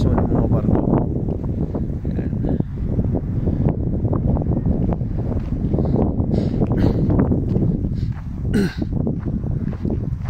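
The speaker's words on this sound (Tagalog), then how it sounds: "at windy kasi mahangin guys, kaya medyo malamig" Steady wind buffeting a microphone on a cold day beside a shipping channel, a constant low rumble with gusty rustling throughout, loud and close, with no voices.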